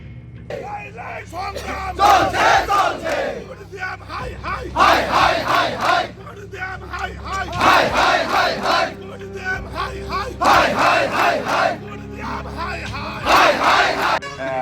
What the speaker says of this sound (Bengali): স্লোগান উঠল জেলা শাসকের বিরুদ্ধে